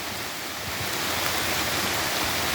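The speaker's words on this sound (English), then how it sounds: "Yeah, see, it's raining now." Steady rain falls outdoors near a garden bed of marigolds, a dense, even hiss that runs unbroken and fairly loud throughout, with no voices over it.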